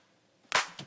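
A short, punchy electronic clap sample with its transient peaks clipped and a touch of reverb, one sharp hit followed by a quieter second hit, alone.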